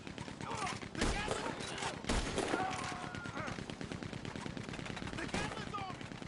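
Rapid gunfire crackles in Red Dead Redemption 2, including bursts from a Gatling gun, with dense overlapping shots and booms at close range, quiet overall and mixed with faint voices.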